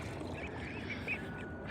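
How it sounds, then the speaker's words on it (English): Young black Cayuga ducks quack faintly amid steady background noise, a few short calls scattered across the moment with one slightly louder near the end. "hand dry my Cayuga ducks, which are the black ducks"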